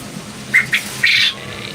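A pair of Girijal pigeons at a pigeon market gives a few short squawking calls, two quick notes followed by a longer one, close and fairly loud over a low market murmur.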